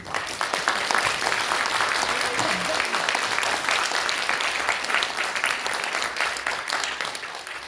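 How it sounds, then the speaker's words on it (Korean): Audience applause at a political party launch event, dense sustained clapping from a large crowd filling the room, loud and continuous throughout, with faint voices mixed in. "여러분들 동의하시면 큰 박수 부탁드리겠습니다"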